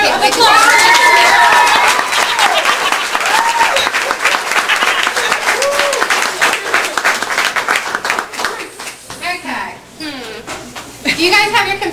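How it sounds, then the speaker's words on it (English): Applause and cheering from a crowd at a weight-loss competition event, with loud dense clapping that holds steady and then thins out toward the end, while excited voices shout and talk over it. "everybody give them a big round for a big applause"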